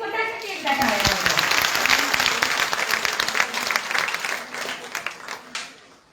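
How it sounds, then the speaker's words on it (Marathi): A workshop audience claps hands loudly, a dense burst of applause that thins into scattered claps and fades out, with a few voices calling over it. "म्हणून जोरात तुम्ही स्वतःसाठी एकदा टाळ्या वाजवा"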